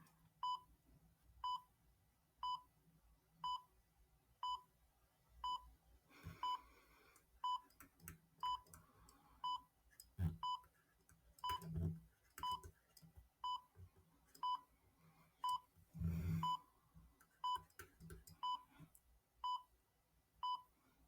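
A timer beeping in short, regular pips about once a second for a long stretch, quiet and steady, with occasional soft rustling and handling noises between the beeps.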